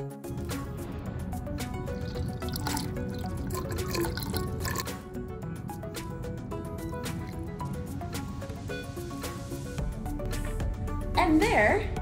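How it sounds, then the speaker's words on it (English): Coloured liquid is poured slowly into a glass rainbow density column, trickling and dripping down the glass edge in soft irregular splashes with faint clinks, while a voice talks over the pouring. "I'm going to pour very slowly and kind of have it drip along the edge to hopefully keep it from blending"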